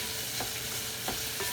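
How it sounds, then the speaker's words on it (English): Onions deep fry for chicken yakhni, a dense, steady sizzle of hot oil with soft stirring scrapes at intervals and no talking. "the onions are starting to deep fry them"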